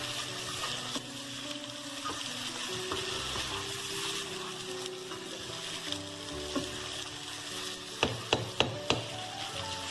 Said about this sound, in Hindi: ये बस डाल के और ये मसाला ज़रा भून जाएगा